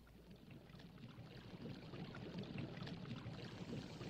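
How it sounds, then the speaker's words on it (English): Ore and gravel being washed in a water washer machine in the factory-building game Evospace, heard as a steady, soft rushing and sloshing of water that continues evenly without talk. "Place into the water washer."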